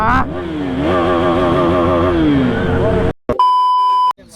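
A KTM Duke 390 motorcycle on a Sunday group ride revs and accelerates loudly up close, pitch rising and falling through gear changes, then cuts off abruptly before a short electronic beeping tone.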